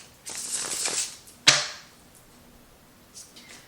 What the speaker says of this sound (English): I'm just shuffling them one more time